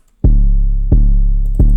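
Three deep, booming 808 bass-drum hits, evenly spaced, each sustaining a long low tone. It is loud and close with nothing else playing.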